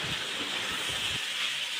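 Squid pieces tossed with masala spices sizzle steadily in a hot pan, a continuous bright hiss with a few soft stirring bumps near the start, no voices.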